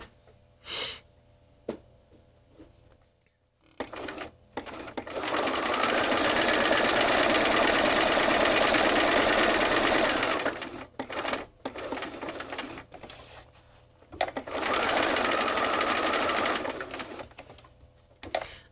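A sewing machine runs in long stitching bursts, its presser foot raised and lowered by a knee lever, with short pauses and clicks between runs.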